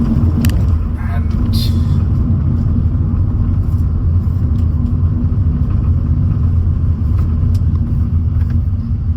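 Hyundai i20 1.0 turbo with iMT gearbox braking and dropping into second gear, a loud steady in-cabin engine and road rumble with low droning hum, someone talking over it throughout.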